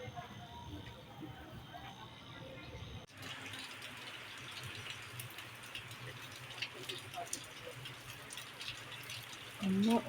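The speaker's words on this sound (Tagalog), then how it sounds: "Umuulan-ulan." Light rain falls outdoors as a faint, steady patter that fills the background, with a person talking over it.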